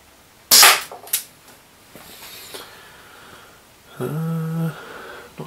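A Chiappa Rhino 50DS CO2 airsoft revolver, double action and loaded with 0.3 gram BBs, fires one sharp, loud pop close by. A small click follows, then quiet, then a short tonal hum near the end.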